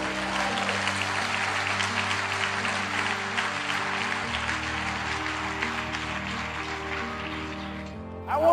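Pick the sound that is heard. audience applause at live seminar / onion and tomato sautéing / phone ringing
audience applause at live seminar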